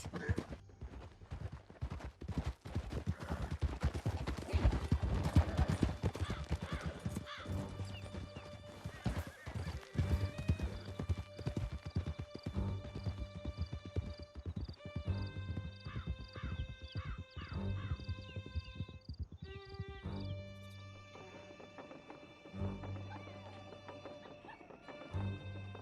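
Horses gallop hard in Red Dead Redemption 2, with a steady drumming of hooves and occasional neighs. A few distant gunshots sound during the chase, and the pace eases toward the end.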